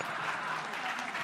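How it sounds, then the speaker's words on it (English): A recorded applause sound effect triggered from a button during a WebMIDI and JavaScript talk, a short burst of crowd clapping heard at moderate, even volume with no talk over it. "I always bring my own applause just in case."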